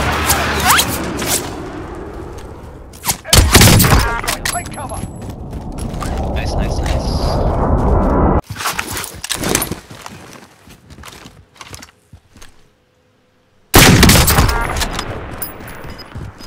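Gunfire from the video game Warzone comes in loud, sharp bursts of several shots, separated by gaps, with fainter mechanical clatter between them.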